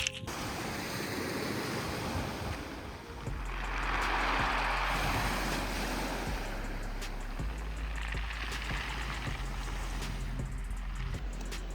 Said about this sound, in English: we're just on the beach